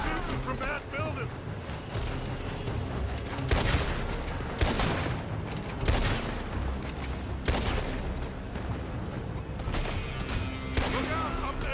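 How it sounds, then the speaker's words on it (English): Gunfire in Red Dead Redemption 2: repeated rifle and pistol shots crack in irregular volleys over a dense, noisy battle, with voices shouting in the mix. "They're shooting from that building."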